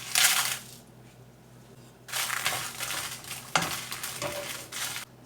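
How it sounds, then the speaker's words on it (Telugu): Dried red chillies roasting in a teaspoon of oil for curry leaf karam podi, close rattling and stirring bursts with a soft sizzle between them, no talking. "ఎండు మిరపకాయలు ఇవన్నీ వేయించుకోవాలి."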